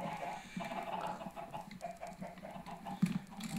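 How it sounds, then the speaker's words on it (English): Chickens cluck in a Minecraft chicken farm, short repeated clucks coming in an irregular patter at moderate volume, with one slightly louder squawk near the end and no talk. "I also want to move the chicken farm."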